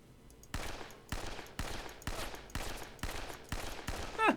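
Imperial Japanese Army gun firing in the video game Men of War: Assault Squad 2, eight sharp evenly spaced shots about half a second apart, loud and close with ringing tails, no talk.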